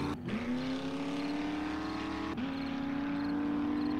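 A vehicle in the zombie survival game 7 Days to Die drives along with a steady, close engine drone, briefly dropping before revving back up and holding a sustained pitch.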